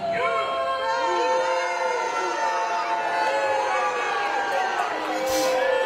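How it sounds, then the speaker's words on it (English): Crowd at a pro wrestling championship event reacts during ring introductions, a lively mix of whoops, shouts and chatter filling the hall under a steady murmur. "Crowd not feeling Hunter Law, are they, Billy?"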